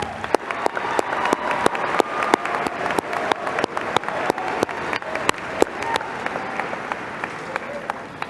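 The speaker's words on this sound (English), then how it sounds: "Let's applaud that." Crowd applause at a high school graduation ceremony, sustained clapping from a large audience with many crisp individual claps standing out and a faint murmur of voices beneath.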